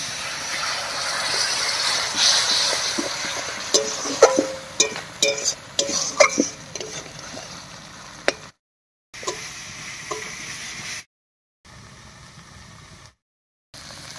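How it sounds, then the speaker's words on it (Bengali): Spice paste with water fries in a pan with a soft steady sizzle, while a utensil scrapes and ticks against the pan in irregular bursts before the sound drops out in gaps. "এবারে মশলা বাটা জল দিয়ে খুব ভালো করে কষিয়ে নেব।"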